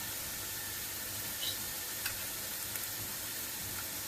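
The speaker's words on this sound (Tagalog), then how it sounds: "tuloy lang ang pagprito hanggang sa maubos ang inyong mixture" Spoonfuls of snack batter mixture frying in hot oil in a pan, giving a steady, even sizzle with faint stirring clicks, close and fairly quiet with no talk.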